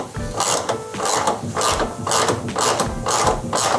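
A spanner ratchets while tightening a rear wing fitting on a Mini Cooper: rapid, regular clicking bursts repeat in a steady rhythm, close and fairly loud, with no voices.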